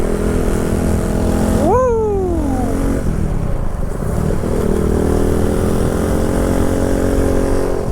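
A motorcycle ridden on a food delivery run, its engine droning loudly and steadily with wind rush, the pitch rising sharply then sliding down as it revs and shifts near the two-second mark.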